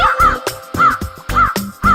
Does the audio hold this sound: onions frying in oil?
no